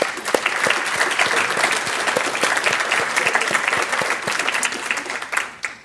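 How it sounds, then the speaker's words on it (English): An audience at a scholarship appreciation luncheon applauds students with dense, steady clapping that stays loud for several seconds, then thins out and tapers off at the end. "let's give them a round of applause"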